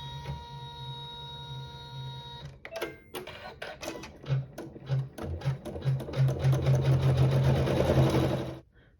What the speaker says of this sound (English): now we'll put a water-soluble thread in the needle, and we will sew the tack down.